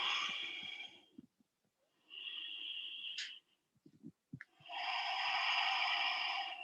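Slow breathing in a yoga forward fold, long airy exhalations with quiet pauses between them, close and steady, three drawn-out breaths.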